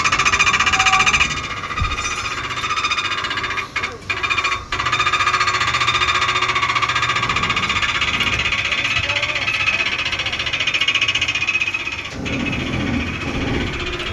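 A bridge gantry machine on a bridge construction site runs steadily and loudly with a rattling, hammering mechanical drone, broken by a few brief dips.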